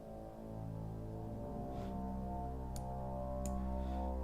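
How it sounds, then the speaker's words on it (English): A low, sustained bass drones with rich, buzzing harmonics from a physically modeled bowed synth, quiet and alone, with a couple of faint clicks. "this is a physically modeled synth on a bow on springs"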